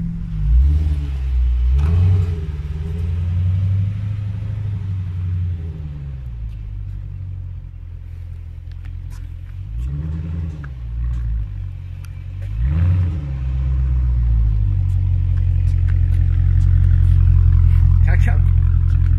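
Dodge Challenger R/T Widebody V8 rumbling near, its deep engine tone rising and falling through repeated revs before a sustained, louder pull as it accelerates from a standing start, with people talking faintly over it.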